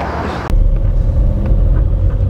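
A convertible car's engine drones steadily with gearbox whine while driving, a low continuous rumble that jumps in loudness halfway through and then holds close and constant, with no talk.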